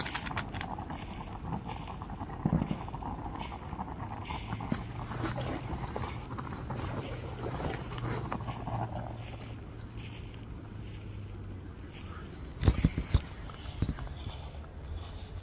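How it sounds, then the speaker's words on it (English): Footsteps crunch near a campsite, a loose, uneven series of steps moving over ground amid faint outdoor background noise, with a few louder thuds near the end. "he heard the footsteps again, but this time they were louder and closer"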